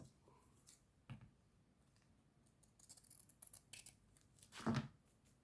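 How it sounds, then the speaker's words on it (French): Scissors trimming excess craft paper from a small card, a few crisp snips and paper rustles at close range, quiet overall with one louder cut near the end. "Alors là, on va couper ce qui dépasse."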